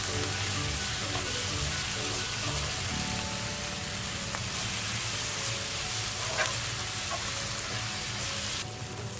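Black pepper and chili powder being stirred in a pan for Singaporean rice: a loud, steady hiss of frying fills the whole stretch, with a few faint scrapes of the utensil now and then and no talk.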